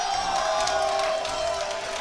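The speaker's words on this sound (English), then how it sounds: "the hometown hero being cheered on by the crowd" A large crowd at the Hessen Crash XXIII fighting game tournament cheers and whoops steadily for a hometown player, a dense sustained roar of many voices without breaks.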